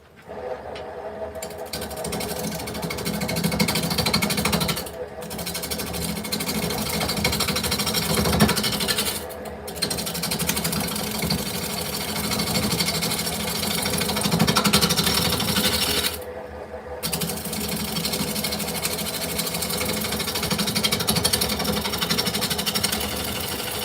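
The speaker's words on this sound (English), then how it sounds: "I think that's the best I've ever sharpened this gouge because it's coming off nice now" A woodturning gouge being sharpened on a sharpening machine, a continuous grinding whir with a steady motor hum that holds for long stretches, broken by a few brief pauses.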